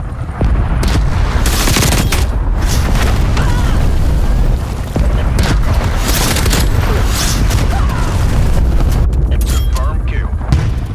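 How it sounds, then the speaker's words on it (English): Explosions, booms and heavy gunfire from a cruise missile strike in the Black Ops Cold War video game, loud and continuous across the whole stretch with dense overlapping blasts and game voice callouts mixed in. "Cruise missile inbound."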